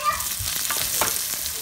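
Garlic, onion and ginger sizzle together in a pan, a steady close crackle of frying with light stirring scrapes and no talking.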